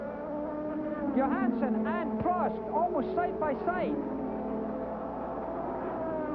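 Formula One cars from the 1985 Canadian Grand Prix accelerate hard, their high-pitched engines wailing steadily beneath continuous race commentary.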